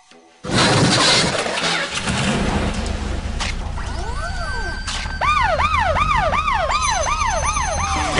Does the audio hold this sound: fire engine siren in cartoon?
yes